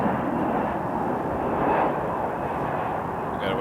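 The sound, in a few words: WestJet airliner landing at Toronto Pearson Airport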